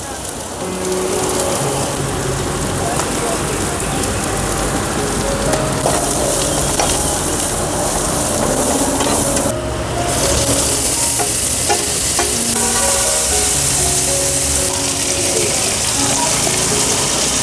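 Loud, continuous sizzling of okra frying in a pan with chili and spices, with scraping stirring noises throughout and a brief burst of louder hiss partway through.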